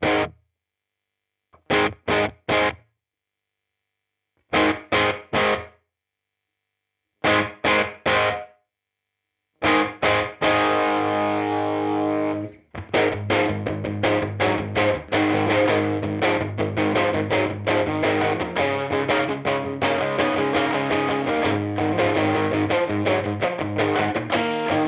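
Electric guitar played through a UAFX Woodrow '55 amp pedal with a room effect: short strummed chords separated by silences, then a sustained, loud driven passage of continuous chordal playing with ambient reverb.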